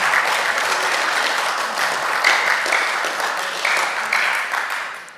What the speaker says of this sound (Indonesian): Pimpinan tepuk tangan dulu dong